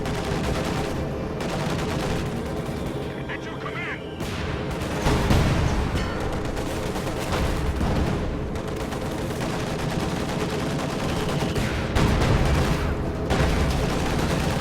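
Tank cannon fire and machine-gun bursts from a WWII strategy game battle, a Panzer IV firing on an IS-2, as a dense, continuous clatter of shots and booms with louder blasts around five and twelve seconds.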